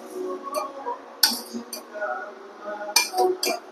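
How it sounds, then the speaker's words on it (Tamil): A spoon clinks against a bowl while mixing a mango ice cream mixture with condensed milk, with scattered scrapes and sharper metallic taps, close and fairly quiet. "மிக்ஸ் பண்ணிடுங்க."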